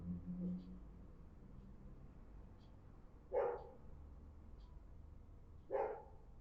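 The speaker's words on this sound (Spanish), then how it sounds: "un perro ladrando" A dog barks twice at a distance, well spaced, over a low background murmur of voices.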